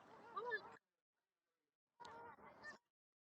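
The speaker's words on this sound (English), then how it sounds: "all the kind of geese are making a lot of noise" Geese honk by a canal in two loud bursts of harsh, overlapping calls, close by, separated by a second of silence.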